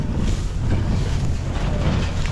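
Strong wind buffets a microphone in a steady, loud rumbling roar with gusty surges, heard alone, over a field of baled straw.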